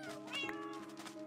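Several cats in a video game meow repeatedly in high, overlapping calls over a continuous tonal background.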